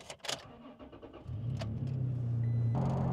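A pickup truck's engine cranks and catches after a few door and handling clunks, then settles into a steady, close idle hum.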